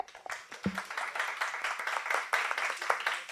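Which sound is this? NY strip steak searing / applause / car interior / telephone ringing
applause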